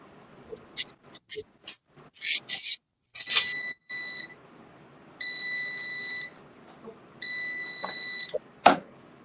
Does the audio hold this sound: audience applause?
no